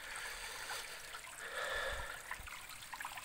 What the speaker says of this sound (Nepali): पानी चाहिँ ठुलो छैन, खोल्ची हो, सफा पानी गाउँघरको